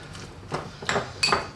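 Tuna being mixed with mayonnaise in a bowl, a few uneven clinks and knocks of a utensil against the dish, close and fairly quiet, with no talking.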